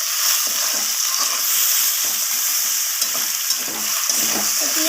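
Chopped onion and thinly sliced tomato frying in oil in a pan for chicken curry, a steady dense sizzle with scattered scraping stir clicks throughout, close and fairly loud, no voices.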